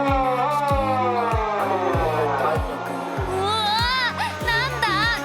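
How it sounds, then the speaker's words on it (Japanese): A fire station siren wails during a routine morning equipment check, rising and falling in repeated sweeps over a low mechanical hum, with voices heard alongside it. "なんだ、急にサイレンが。"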